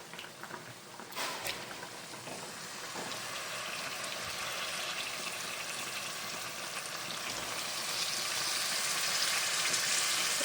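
Pomfret pieces going into hot spicy masala in a pan for fish curry, giving a steady crackling sizzle that swells slightly toward the end, with no voices.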